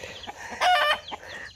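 A rooster on a family farm gives a short burst of loud, nearby clucking that rises to a squawk midway, with softer hen-like calls around it and no talk.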